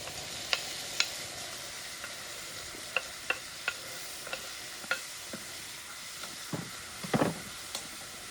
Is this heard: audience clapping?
no